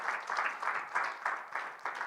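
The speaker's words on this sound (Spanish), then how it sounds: "Dele un aplauso al Señor." A church congregation claps during a Sunday service, soft and somewhat distant, coming in regular pulsing bursts of rhythmic clapping, about three per second, with no talk over it.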